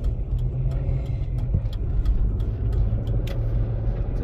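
Low, steady engine rumble and road noise fill the cabin of a car driving on a Colorado road, constant and close with faint ticking clicks, no voices.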